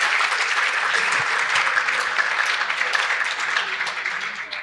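An audience at a mayors' plenary session of an urban summit breaks into steady applause, a continuous crackling wash of many hands clapping at moderate volume with no talk over it.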